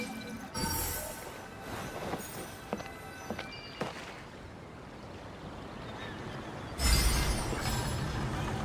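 Train ride across the sea in the video game Genshin Impact, a steady rolling rumble with sharp clanks near the start and a louder surge of rushing noise toward the end.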